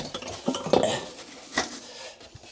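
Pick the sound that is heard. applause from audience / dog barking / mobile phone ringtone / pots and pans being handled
pots and pans being handled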